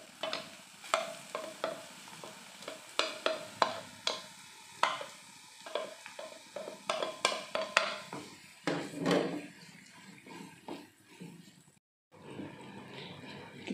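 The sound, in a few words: frying chopped garlic and shallots in oil for sambal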